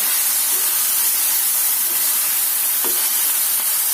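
Moringa leaves cook in a hot pan, giving a loud, continuous close-up sizzle and steamy hiss that stays even throughout, with a faint clink or two and no voices.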